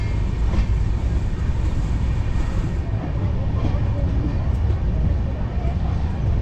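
A steady, loud rumble from an Indian train hauled by a WAB9 electric locomotive with LHB coaches, on the Satavahana Superfast Intercity Express. Continuous noise fills the whole stretch with no breaks.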